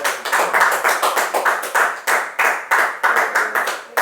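Congregation in a church clapping in unison as an offering of applause, a steady rhythmic run of sharp, fairly close hand claps throughout with no voices over them.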